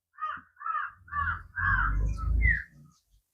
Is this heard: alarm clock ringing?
no